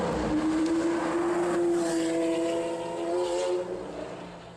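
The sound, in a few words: sports car speeding off loudly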